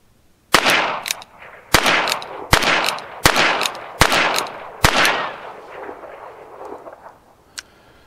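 A revolver firing Remington Thunderbolt .22 LR rounds: six loud, sharp reports spaced about a second apart, each ringing out with a short echo, then a faint click.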